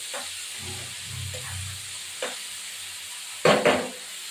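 Spices stirred and fried in a pan for a cauliflower and mutton dish, a soft hiss of frying under a few scraping stirs, then two sharp louder clatters near the end.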